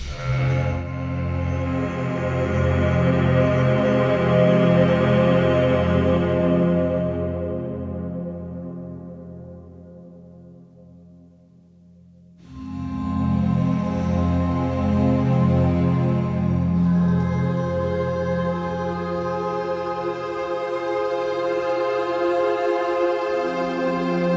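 A dense, sustained orchestral drone texture from a sample instrument swells with rich low layers and shimmering highs, briefly thins to near silence, then returns full and steady.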